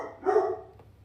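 A single short bark from Cooper, a pet dog, heard indoors: one mid-pitched woof, fairly close and moderately loud, followed by a faint tick and a low background hum.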